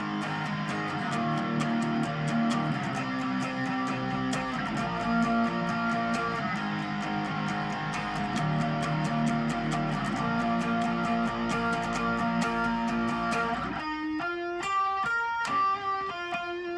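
Distorted electric guitar plays a chorus, a driving run of power chords for about fourteen seconds that gives way to a cleaner, ringing picked figure, close and steady with no talking.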